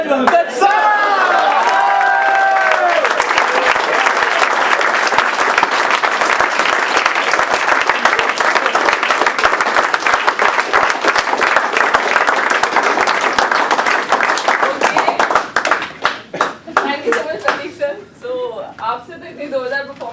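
An audience at a poetry mehfil claps in a dense, sustained burst of applause with a few whoops, thinning into scattered claps and laughter near the end, with voices talking over it.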